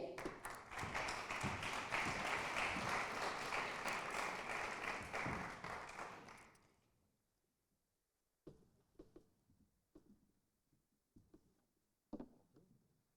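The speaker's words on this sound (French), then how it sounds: "Merci de les applaudir." A forum audience applauds loudly in sustained clapping for about six seconds, the applause dying away into silence, followed by a few scattered claps and light taps.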